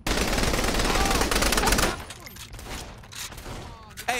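Rapid automatic gunfire in Saints Row The Third Remastered, a dense loud burst of shots for about two seconds, then sparser scattered fire and mechanical clatter trailing off.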